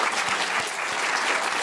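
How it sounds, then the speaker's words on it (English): Steady, dense applause from an audience in a university auditorium at Yale, loud and continuous throughout the short stretch with no voices over it. "Applause is appropriate."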